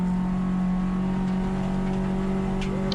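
A Toyota race car at the Pacific Grand Prix holds a steady, loud engine drone with a constant tonal whine, heard from on board without any speech.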